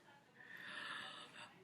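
A voice imitates a snore during a read-aloud children's story, producing one breathy, rasping snort-like sound up close, soft and lasting just over a second.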